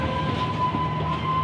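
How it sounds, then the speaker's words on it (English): A roller coaster train at Blackpool Pleasure Beach rumbles past on its track with a steady mechanical roar and a faint sustained whine, moderately loud and unbroken. "There's the train."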